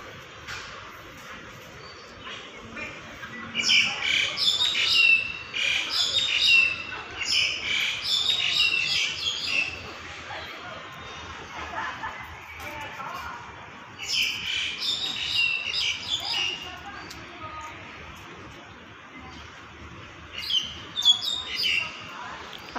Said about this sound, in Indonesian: dan banyak juga burung-burungnya.